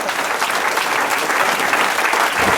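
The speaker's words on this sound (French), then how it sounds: "vous pouvez l'applaudir" Dense, loud applause from an audience at a ceremony honoring an Olympic medalist, continuous close clapping across the whole stretch with no voices.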